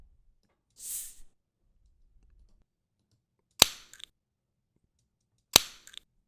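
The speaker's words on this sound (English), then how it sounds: "That's the soda can being opened." A soda can opened twice, each a sharp, close pop-and-hiss burst followed by small clicks, with quiet gaps between, plus a brief softer hiss near the start.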